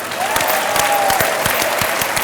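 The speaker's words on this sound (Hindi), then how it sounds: "सिद्धू जीत गया, ताली बजा दो।" A studio audience on a Hindi game show claps loudly and continuously for a couple of seconds, dense rapid applause close up with no one speaking over it.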